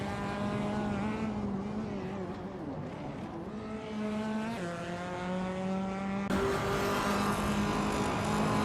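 A 2018 BMW 125 racing in a video game drones with a steady engine whine that shifts pitch as it runs through gears, with a sharp upshift near the end; continuous, close and prominent.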